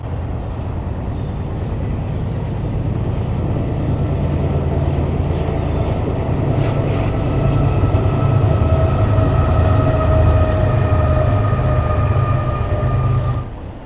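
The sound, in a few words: BNSF intermodal freight train with locomotives passing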